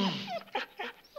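A dog whimpers and yips in short, high whines, several brief cries spaced out in a quiet indoor room, close and fairly soft.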